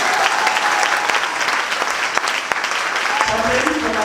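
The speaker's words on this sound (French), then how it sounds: "Ça mérite qu'on acclame le Seigneur." A church congregation at a worship service claps in sustained, dense applause close by, with a voice speaking and calling out over the clapping.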